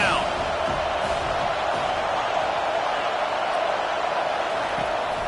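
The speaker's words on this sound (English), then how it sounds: "Decibels rising as the crowd gets behind this defense on third down." A stadium crowd at a Penn State football game roars in a steady, loud wash of cheering that holds throughout, with a broadcaster's voice faintly under it.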